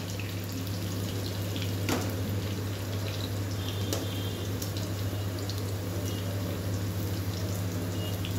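A pot of curry with fried pumpkin, potato and pointed gourd simmering on the stove, giving a steady low bubbling and hiss with occasional soft pops and drips, continuous and close.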